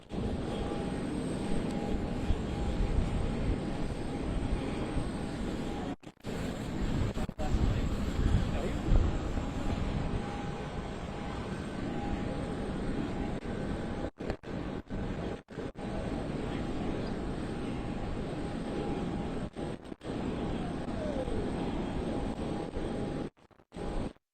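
A football team's airplane sits at an airport after arriving home, its engines giving a steady, loud roar with wind buffeting the microphone throughout and a few brief dropouts.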